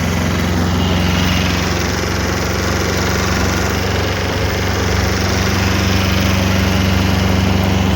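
A small mini tractor engine drones loudly and steadily, an even mechanical rumble with no pauses and no voices.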